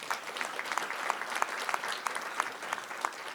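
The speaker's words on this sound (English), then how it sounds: "Give her a round of applause." Audience applause at an evening county board meeting, a modest room full of people clapping steadily with sharp individual claps standing out, moderately close and without talk.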